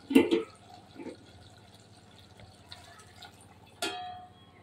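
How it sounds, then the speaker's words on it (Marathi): Hot water splashes and trickles into a pot of kohlrabi curry in a couple of short bursts, with a clatter of metal, quiet in between, then a final splash. "ताटामध्ये जो गरम पाणी झालेला आहे तो याच्यामध्ये घालते"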